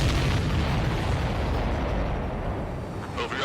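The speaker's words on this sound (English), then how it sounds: "Everybody, keep a safe distance to avoid getting caught in the explosion." Missile explosion in the flight combat game Ace Combat 7: a loud, sustained rumbling blast fills the whole stretch with dense low-end roar and crackle, steady throughout with a slight dip near the end.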